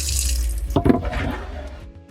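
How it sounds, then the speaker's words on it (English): Water gushes from a campervan sink tap fed by a water pump, a close, loud splashing into the basin that tapers off as the tap is shut. "our water pump works pretty nicely"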